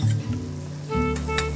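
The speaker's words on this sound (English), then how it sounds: "Saute first garlic, onion, and chili in olive oil." Garlic, onion and chili sauté in olive oil in a pan, a close, steady sizzle with a couple of brief stirring bursts.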